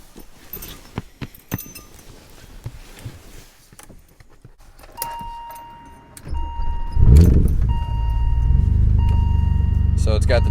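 A 1987 BMW 535is E28 with a ticking engine: keys jingle and clicks come first, then the starter cranks and the engine catches into a loud, steady idle, with a faint, regular tick riding over it.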